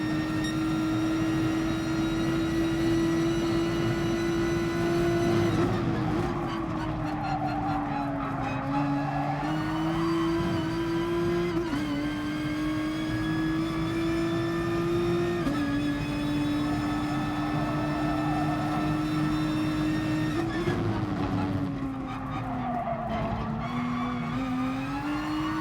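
A Nissan GT-R race car in GT Sport drones steadily at high revs, the pitch dipping and climbing through gear changes and corners, loud and constant throughout with faint tyre noise.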